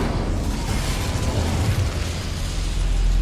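A fire spell cast in the Hogwarts Legacy video game roars as a loud, sustained rumbling burst of flame with a low booming body, filling the whole clip at steady intensity.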